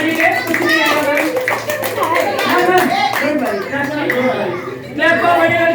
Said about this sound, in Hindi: एक और जोरदार तालियां